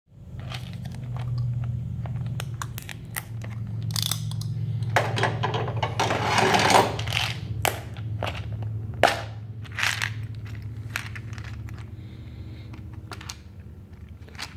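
Twisted wire ends being crimped into a connector for a Ford Focus fog light mod, with scattered crunching squeezes and clicks over a steady low hum.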